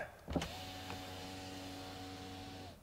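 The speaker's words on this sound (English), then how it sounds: "Do the rear windows go all the way down?" The rear electric windows of a Mercedes E-Class lower with a steady, smooth motor whine lasting a couple of seconds after a faint click, quiet and close, with no talking.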